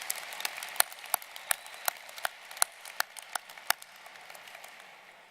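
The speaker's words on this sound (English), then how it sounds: "let's give them a round of applause" A small audience at a university commencement applauds with sparse, distinct claps in an uneven rhythm, fairly faint and tapering off toward the end.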